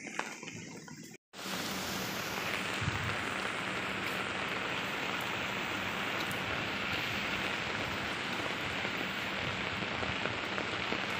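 Steady rain pours down outdoors during a walk, a dense continuous hiss of drops on surfaces, close and even after a brief cut near the start, with no voices.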